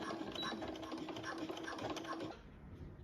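A home sewing machine pushes through a thick clothing waistband with quick, even stitching clicks, fairly faint and steady, easing off toward the end.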